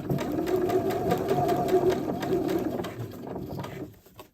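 A domestic sewing machine stitches a seam, running steadily close by with a fast rhythmic whir for about four seconds before slowing to a stop, with faint background sounds.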